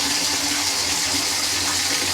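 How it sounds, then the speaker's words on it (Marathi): Tap water pours steadily into a bucket in a village home, a constant loud rushing gush with no pauses and no talking. "त्यानंतर बकेट भरायला टाकू. हा, पाणी आलंय. पाणी, आवाज ऐकू शकतात पाण्याचा."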